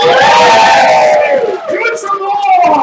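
A game-show live-stream crowd cheers and shouts loudly and close, with raised voices blending into one continuous roar that dips slightly partway through.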